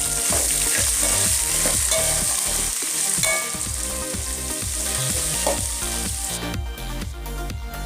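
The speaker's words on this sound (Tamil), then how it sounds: "இப்போ வெங்காயம் வந்து நல்லா வதங்கிடுச்சு." Sliced onions sizzle and fry steadily in hot oil in a pan for a Chettinad-style mint chutney, with occasional stirring scrapes and a continuous bright crackle throughout, no talking.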